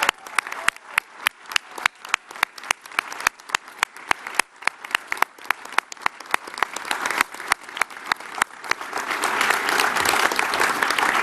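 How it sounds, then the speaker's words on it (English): Election-night audience applauding the Premier in Queensland, opening with sparse, loud individual claps that thicken into steady, dense applause from a large crowd, swelling toward the end. "So would you please applaud the Premier?"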